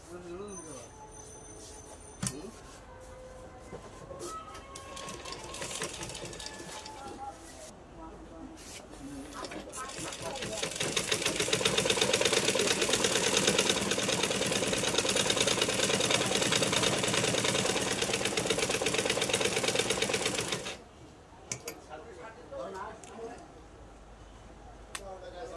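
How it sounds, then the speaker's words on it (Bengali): Sewing machine stitching a piece of cloth: a few short bursts give way to a long, loud, fast steady whir lasting about ten seconds, then stopping abruptly, with a voice talking before and after. "এখন এই কাপড়টি দিয়ে আবার সেলাইটি চেক করে নেব।"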